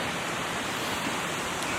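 A waterfall roars at the Coniston Coppermines in the Lake District. The rush of falling water is steady and broadband, close and fairly loud, with no voices.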